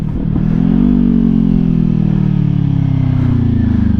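A motorcycle engine revving up to 5,000 RPM while rev matching on a downshift, a loud close rising engine note that holds steady and then eases off slightly, with no talking.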